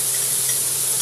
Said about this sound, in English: these steaks are about a quarter of an inch thick, and then you just flip them over